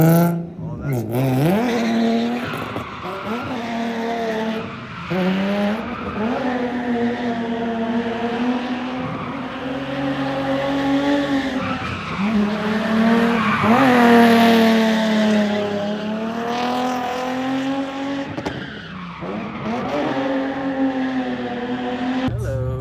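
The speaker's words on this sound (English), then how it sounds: "I'll go shred some motherfucking tires, baby" Cars drift at a Las Vegas street meet, engines revving up and down in repeated rising and falling sweeps with tire squeal layered on top, loud and continuous while people talk nearby.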